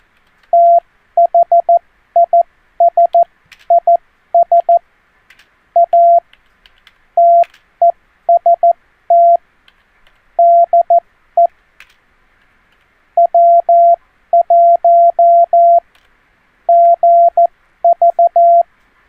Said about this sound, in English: There's a trick I've never tried with this program, and that's to send CW.